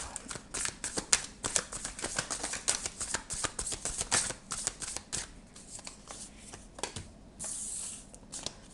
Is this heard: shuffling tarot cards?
yes